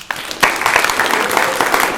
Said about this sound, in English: let's give the award winners tonight first a round of applause